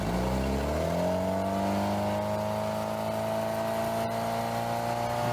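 A loud, new motorboat engine revs up and holds a steady, roaring drone with a rising pitch, close and continuous with no voices.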